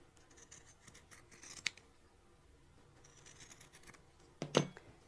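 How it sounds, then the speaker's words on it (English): Scissors trimming fabric around a sewing appliqué project, a few soft snips and scrapes followed by a sharper, louder cut close by. "So I'm going to get all this trimmed all the way around."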